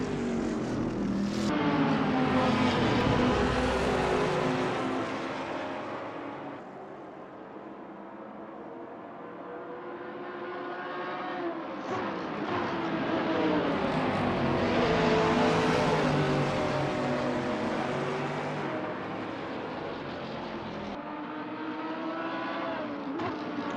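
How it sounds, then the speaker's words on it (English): Race cars in a GT racing video game at Spa, including a Porsche passing a Bentley, scream past with rising and falling engine notes, two loud swells of revving and gear changes sweeping by close. "And Carlos De La Torre's got his Porsche around Thomas's Bentley."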